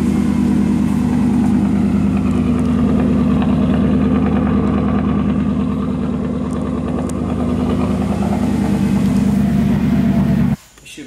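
A Mercedes E55 with the supercharged M113k V8 runs after a spark plug change, a loud, steady low idle rumble holding for about ten seconds before cutting off abruptly near the end.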